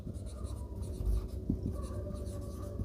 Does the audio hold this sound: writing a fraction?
yes